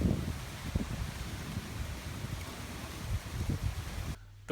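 Wind gusting over very shallow water with sizeable waves beside a boat near a spa, a steady low rumbling roar with buffeting against the microphone, cutting out abruptly near the end.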